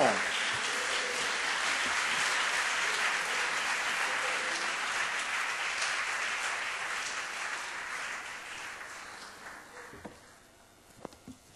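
Congregation at a church service in Techiman, Ghana gives a sustained round of applause, steady and dense at first, then thinning and fading over the last few seconds into scattered claps.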